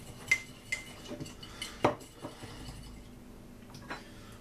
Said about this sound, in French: on va ajouter l'œuf entier dans le mug et on va bien mélanger avec notre fourchette